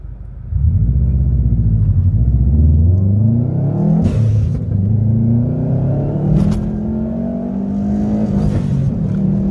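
A 400 hp Subaru WRX accelerates flat out on a timed run, its engine note climbing steadily through several gears with brief shift breaks, loud and close, with no talking.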